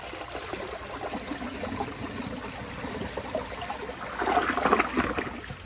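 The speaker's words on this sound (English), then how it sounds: "So now I'll give you all a flush." A 2008 Mancesa Aquacer toilet flushes in a steady wash of rushing and trickling water that swells louder toward the end, close by with no talking.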